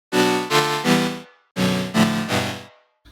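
Detuned Serum saw-wave chord with oscillator sync set an octave higher, for a house remake: six bright, buzzy synth stabs in two groups of three, each hit decaying quickly, with no voices.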